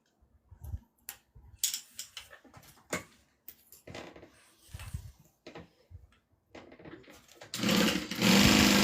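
A sewing machine stitches fabric in short, separate bursts with pauses and handling noises between them, then runs steadily and louder in one sustained stretch at the end.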